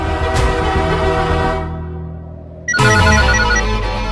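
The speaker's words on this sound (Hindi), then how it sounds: "शांतनु, प्रतीक को फोन करना, शायद उसके साथ होगा।" Telephone ringtone sounding while a call is placed, a loud tonal melody that fades and then sharply restarts after a brief gap, heard alone without talk.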